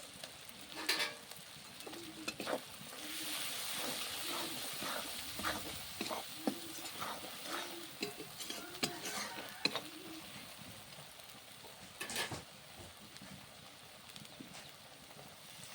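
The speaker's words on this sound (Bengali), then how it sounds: "ভালো করে মশলা কষাই করে নেব দিয়ে দিব কাশ্মীরি লাল লঙ্কার গুঁড়ো" Spice masala with Kashmiri red chili powder stir-fried for a homestyle country chicken curry, a low sizzle with repeated scraping strokes of a spoon against the pan and a few louder knocks.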